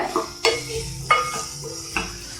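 A utensil stirs an eggplant fry in a pan with four distinct scraping knocks spaced about half a second apart, over a steady soft sizzle, close and clear.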